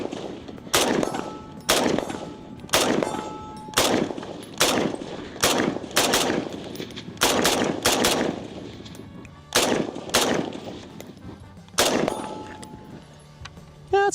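A full-length, non-short-barreled Ruger Mini 14 semi-automatic rifle fires about a dozen loud, sharp single shots outdoors at irregular intervals of roughly a second, each shot ringing briefly and sometimes followed by a faint metallic ping.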